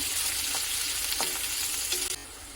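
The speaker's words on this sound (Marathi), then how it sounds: "इथे मी थोडासा कढीपत्ता घेतला तर तो पण याच्यामध्ये घालून घ्यायचा आणि कांदा छान असा भाजून घ्यायचा" Onion sizzles steadily with ginger and curry leaves in hot oil, a dense, close frying hiss broken by a few light stirring scrapes before it drops slightly quieter at the end.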